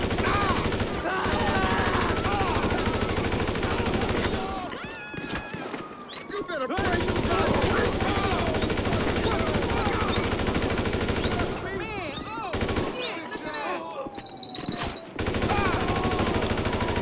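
Rapid bursts of automatic gunfire from the video game GTA 5, loud and dense, dropping out briefly twice before resuming, with game sound effects layered in.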